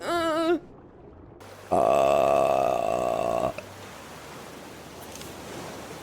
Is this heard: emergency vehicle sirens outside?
no